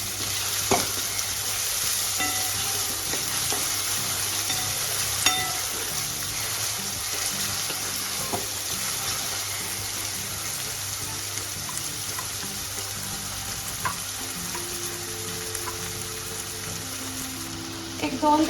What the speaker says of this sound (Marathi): आता आपण हे भाजून घेणार आहे तेलात चांगलं।